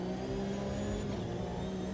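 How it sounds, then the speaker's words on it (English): A race car engine in a sim racing game drops quickly down through the gears under braking, giving a steady droning mid-pitched engine tone that stays close and loud for the whole short stretch. "Slamming it down the gears to help slow it down"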